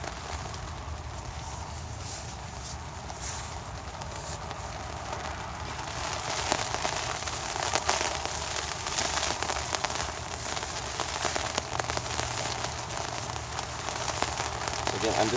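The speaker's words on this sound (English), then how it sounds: "then I don't actually have to be out in the rain where things are getting wet really quick based off of the current rainfall levels" Steady rain falls on a campsite while a backpacker packs gear from inside a shelter, a dense continuous patter and hiss that swells slightly midway, with no talk over it.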